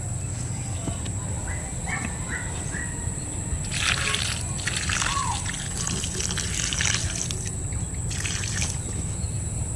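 Water trickling and splashing over eggplant plants during summer watering, steady and fairly close, with louder pouring bursts midway and near the end over a constant background hum.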